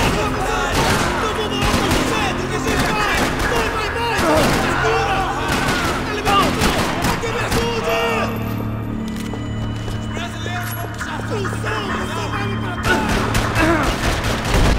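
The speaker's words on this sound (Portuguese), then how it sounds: "Esse jogo é rachação e tiro pra todo lado." Gunfire fills a Max Payne 3 firefight: dense bursts of shots and machine-gun rattles with booms, loud and nearly continuous, dipping briefly midway before resuming, with game voices mixed in.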